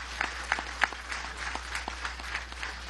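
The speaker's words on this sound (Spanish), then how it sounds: "Un aplauso a la embajadora, gracias por acompañarnos." Audience applause for an ambassador at a Venezuelan government housing event, steady and moderately distant, with scattered individual claps standing out over a dense wash of hands for about three seconds.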